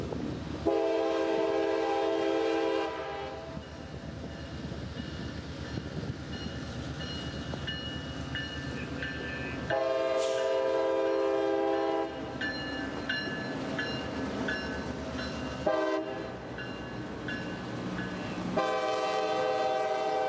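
A CSX freight train carrying auto racks rolls past in North Tampa, its horn sounding loud in several long blasts over the steady rumble of the moving cars.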